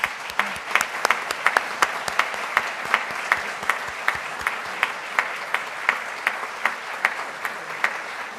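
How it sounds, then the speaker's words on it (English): A seated audience at a club foundation celebration claps steadily in polite applause for honored donors, an even patter with a few sharper individual claps standing out, fairly near and unaccompanied by talk. "Let's give them all a round of applause."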